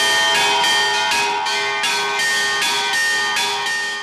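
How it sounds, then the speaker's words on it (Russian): Church bells ring in a real bell tower, a rapid repeating peal of bright, overlapping strikes that ring out loudly and sustain without any talking. "Колокольня с настоящими колоколами, в которые можно будет звонить от всего светлого и широкого детского сердца."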